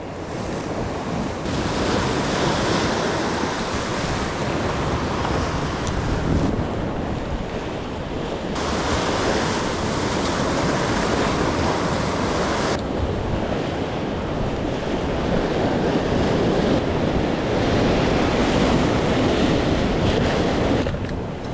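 Rough sea surf pounds the shore during a heavy storm surge, a continuous loud roar of breaking waves with strong wind buffeting the microphone and no voices.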